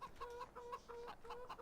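Chickens in Farming Simulator 17 give repeated rhythmic clucks, about six or seven evenly spaced calls in quick succession, close and moderately loud over faint farm ambience.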